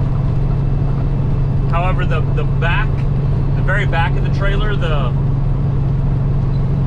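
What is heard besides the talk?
truck driving down highway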